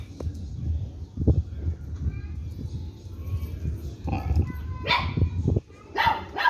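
A dog barks and yips several times at close range, some bursts louder and sharper than others, with faint background murmur and a voice speaking Spanish to it between barks.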